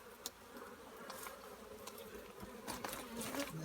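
Honey bees buzzing steadily around an open hive during a spring inspection, a dense, continuous drone close by with a few individual bees passing nearer, no voices.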